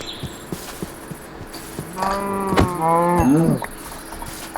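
Minecraft cows moo in the game, two drawn-out lowing calls one after the other, fairly loud over quiet ambient game sounds with faint ticks and no talking.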